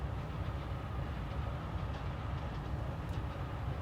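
Train rumble in the video game Forgotton Anne, a steady low rolling drone from a railway carriage that holds even and unbroken throughout, with no voices over it.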